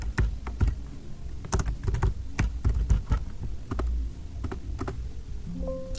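Fast, irregular keystrokes on a computer keyboard while entering a place name into mapping software, close and clear, with short pauses between bursts and no one talking.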